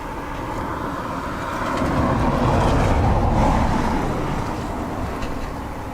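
A jet airliner takes off from runway 10 right at Dublin Airport on a windy, wet day, its broad roar swelling to a peak midway and then easing, heard from a distance with no talk.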